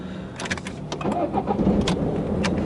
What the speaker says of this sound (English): Start the engine, foot on brake pedal.